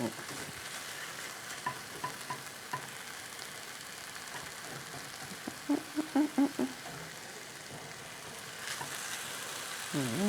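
Fried rice with Chinese olive pickle and pork stir-fried in a pan, with steady sizzling and a run of close spatula scrapes and clacks against the pan in the middle, with no talk.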